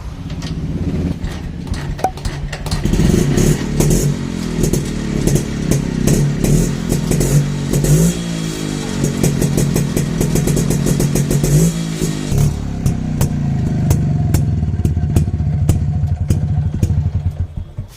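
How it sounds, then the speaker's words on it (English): A Yezdi Deluxe 250 motorcycle engine cranks and catches, then idles with a loud, throbbing exhaust beat and occasional revs, close by and with no talking. "You heard that sweet exhaust note from this Yezdi Deluxe 250"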